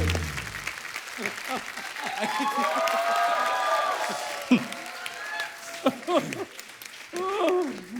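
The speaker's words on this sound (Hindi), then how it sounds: "प्लीज एक बार जीतू सर और एकता जी के लिए जोरदार तालियां।" Studio audience applause on a comedy talk show, a broad steady wash of clapping that fills most of the stretch, with voices and a few cheers rising over it near the end.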